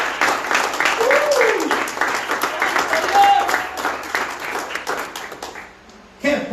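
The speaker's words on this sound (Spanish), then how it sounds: "Denle un aplauso al Señor, gloria a Jesús." Church congregation clapping in applause during an evangelist's sermon, a dense steady patter of many hands with voices mixed in, fading briefly near the end before a final loud burst.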